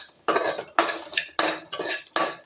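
A metal spoon scrapes and clacks against a pan four times in a slow rhythm as tempering spices are stirred, close and fairly loud with no talking.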